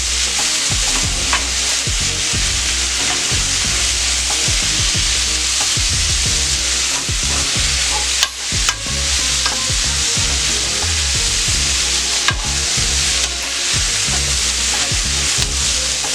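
Ground meat sizzles loudly in a hot pan, with continuous crackling and repeated scraping stirs heard up close and no voices.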